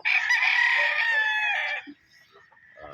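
A gamecock on a gamefowl farm lets out one loud, close, drawn-out crow lasting nearly two seconds, followed by quieter farm sounds.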